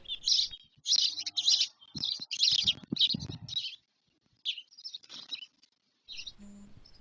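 Sparrows chirping in a series of quick, bright bursts, loud and close with short pauses between runs, alone without voices.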